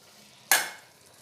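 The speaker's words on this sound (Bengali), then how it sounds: "এবার এতে দিয়ে দেবো ভেজে রাখা আলু," Fried potatoes tipped into a pan of ghugni: one sudden sizzling splash with a scrape of stirring, then a fading hiss over a faint background of cooking.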